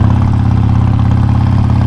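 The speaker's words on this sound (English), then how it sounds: "here is the official first ride with my new exhaust. This thing sounds crazy." A Harley-Davidson Forty-Eight motorcycle with a new aftermarket exhaust rumbles loudly and steadily up close, a deep, throbbing low-end idle with no voices over it.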